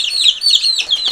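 Chicks in a homemade brooder chirp continuously, a dense flock of high, overlapping peeps close by with no talk over them.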